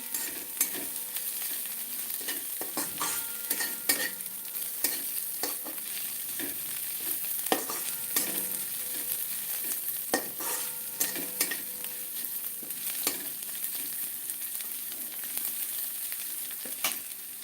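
Garlic and green chillies fry in a pan on low gas, giving a continuous close sizzle with repeated sharp clicks of a spatula stirring throughout, with no talking.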